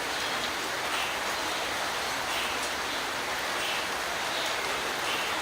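Rain coming down outdoors at Loch Sport, a dense, even hiss of falling drops that holds steady and fairly loud throughout with no other sounds.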